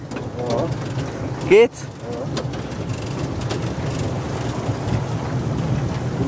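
A motorboat on the Wallensee runs at speed with a steady, low engine rumble mixed with wind buffeting the microphone; a short sharp whistle-like tone cuts in briefly, and people talk over the drone.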